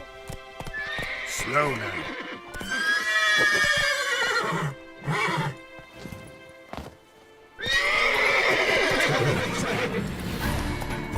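Roach, Geralt's horse in The Witcher 3, whinnies loudly in long bursts over clip-clopping hooves, and someone speaks briefly between the calls.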